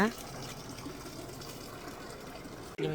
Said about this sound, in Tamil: ஒரு ஸ்கெலிட்டன் வாய்க்குள்ளேருந்து தண்ணி ஊற்றுற மாதிரி வச்சுருக்காங்க.